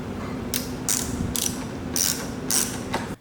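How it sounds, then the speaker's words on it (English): A ratchet loosens 10mm bolts on the door handle of a Mazda FD RX-7, giving five quick, close bursts of clicking at a steady pace, with no talk. "start loosening these 10mm and see if I can pull that handle out"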